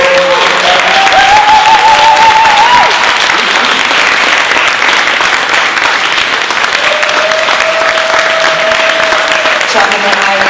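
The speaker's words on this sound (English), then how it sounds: "The utmost applause for sharing." An audience at a ballroom-culture panel talk breaks into loud, sustained applause that fills the whole stretch, dense and steady with a few whoops rising over the clapping.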